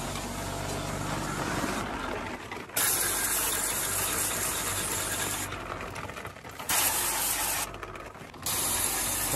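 A Supco Porta-Blaster pressure sprayer blasts water through a Fujitsu mini split, a loud close hissing spray that cuts out and restarts in several bursts over a low mechanical rumble.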